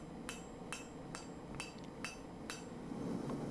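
Hammer forging a steel wrench into a knife, six sharp metallic strikes at an even, unhurried rhythm over a steady background hum, no talking.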